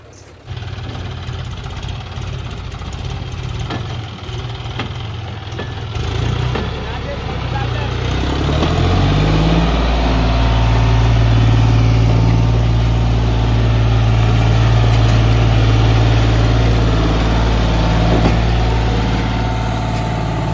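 A John Deere tractor pulling a heavily loaded trolley of sacks, its loud diesel engine rumbling steadily and then rising into a heavier, sustained labouring drone as the load moves.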